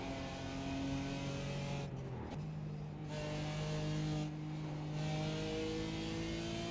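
A Porsche GT3 race car engine in a racing video game drones steadily at high revs, with a brief gear-change dip partway through, the tone staying strong and sustained as it approaches.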